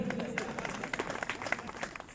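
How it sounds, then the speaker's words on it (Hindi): An audience claps in short bursts of scattered hand claps, with a voice talking over the start. "ताली बजाओ"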